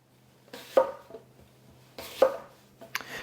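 A knife cuts down around the core of Pink Lady apples, giving two distinct crunching slices a second or so apart, each ending in a firm knock on the board, then a short quicker cut at the end.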